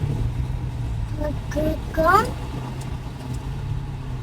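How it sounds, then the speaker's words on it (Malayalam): A car being parked, its engine giving a low, steady rumble close by throughout, with voices briefly heard over it. "കാർ പാർക്കാക്കാം"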